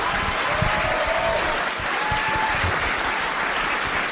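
An audience applauds filmmaker Phil Rouleau at a live podcast taping, a steady, dense wash of clapping that holds for several seconds, close and loud throughout.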